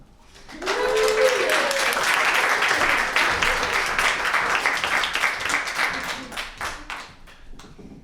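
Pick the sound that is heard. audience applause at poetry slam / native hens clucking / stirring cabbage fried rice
audience applause at poetry slam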